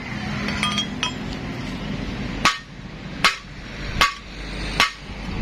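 A hammer strikes a pineapple gear sprocket four times in a steady rhythm, with loud, sharp metallic clanks that ring briefly, heard close over a constant workshop hum.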